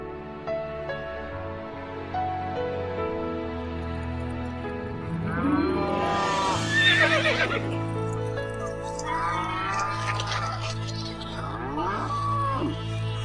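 Horses whinnying loudly in a farm-animal scene, with long rising and falling neighs over a sustained musical backdrop and low rumble.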